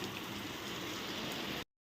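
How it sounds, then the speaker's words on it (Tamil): Heavy rain pours down steadily in a rural outdoor setting, a dense, even wash of drops striking surfaces, loud and continuous, with no voices, before cutting off abruptly. "சரியான மழை பெய்யுது"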